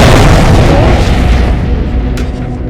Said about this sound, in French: c'est la télé, elle explose